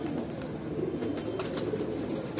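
Bajra pigeons in a loft coo softly and continuously in low, murmuring tones, several birds overlapping at moderate distance with faint scattered rustles.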